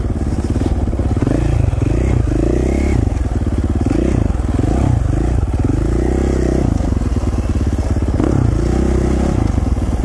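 A dirt bike with a 12-tooth countershaft, ridden along an Idaho single-track trail, its engine droning and revving steadily for the whole stretch, close and loud, with clatter and scrapes from the terrain.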